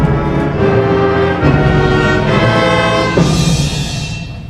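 A concert ensemble plays an ominous Godzilla theme, with loud, heavy low chords sustained and restruck several times, swelling into a brighter, fuller burst before fading slightly at the end.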